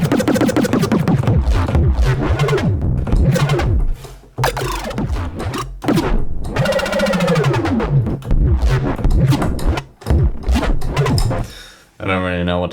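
A resampled neuro bass sound played on a sampler lurches through gritty, warbling, growling notes with sweeping formant-like shifts and abrupt stops, loud and close, alone.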